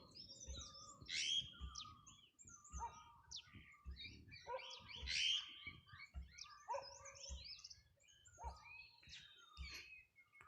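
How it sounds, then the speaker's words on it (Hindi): Several birds chirp and call over one another in the morning, bright and fairly close, near wheat fields, over a quiet background marked by soft, regularly spaced low thuds. "तो आप चिड़ियों की आवाज़ सुन सकते हैं"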